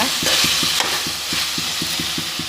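Chicken curry sizzles steadily in a pan while a spoon scrapes the bottom in a regular rhythm of about five strokes per second, close and fairly loud, with no talking.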